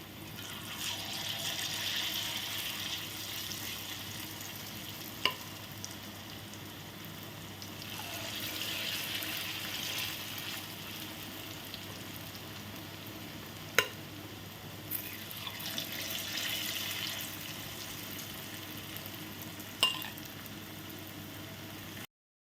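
Jackfruit paniyaram batter fries in a deep cheenachatti pan with a soft, faint bubbling sizzle, broken by a few sharp clicks from a utensil.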